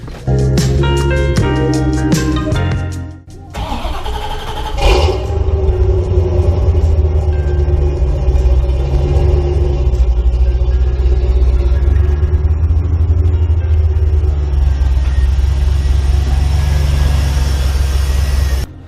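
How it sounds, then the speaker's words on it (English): A 1991 Chevrolet C4 Corvette engine, unstarted for two weeks, starts with a sharp burst and then runs steadily, a loud low rumble idling continuously for the rest of the clip. "this is the first I've actually started the car in 2 weeks"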